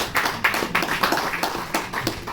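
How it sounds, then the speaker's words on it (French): A lecture audience claps for a visiting philosophy class, an uneven patter of hands from a modest crowd, fairly close and steady, without voices. "on vous applaudit"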